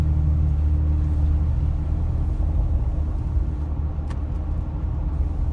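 Car driving on a dark road at night, a steady low engine and road rumble that holds evenly throughout, heard from inside the vehicle with no talking.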